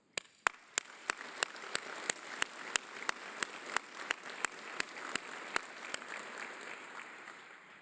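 Applause at an academy graduation ceremony, heard quietly as a soft rain-like patter of many hands with sharp regular claps standing out near the front before it fades away.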